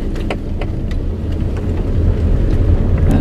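A Volkswagen TDI car with a loss-of-power fault drives on a test run, its engine and road noise forming a steady low rumble that builds slightly, with faint clicks and knocks over the top.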